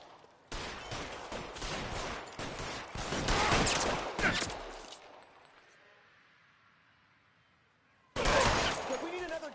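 Gunfire in the L.A. Noire video game: loud, close bursts of rapid shots crackle, fade into a lingering tail, then erupt again, with voices shouting amid the exchange.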